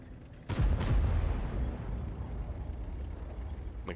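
Two quick heavy tank cannon blasts from a tank video game during a Manoeuvres event match, booming close together and fading into a long rumbling decay over steady background drone.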